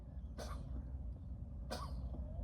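Two sharp sneezes about a second apart, fairly quiet against a low steady rumble, no talking.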